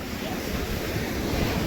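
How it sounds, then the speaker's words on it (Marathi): Large ocean waves break on a beach in a steady, continuous roar that fills the whole moment, loud and near, with wind buffeting the microphone. "होय लाट आले बरीच मोठी."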